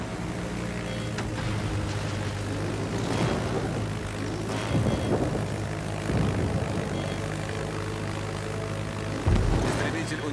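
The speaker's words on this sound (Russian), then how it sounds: "Истребитель взлет произвел." A fighter aircraft takes off in the naval battle game World of Warships, a steady propeller-engine drone with occasional louder bursts layered over continuous battle ambience.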